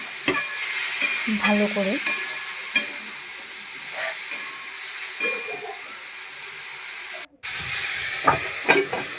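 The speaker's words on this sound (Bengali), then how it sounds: "নুন হলুদ দিয়ে আবারও কষিয়ে নিচ্ছি" Cauliflower and potatoes frying in a pan with salt and turmeric, a steady sizzle and hiss broken by stirring scrapes, with a brief voice speaking once.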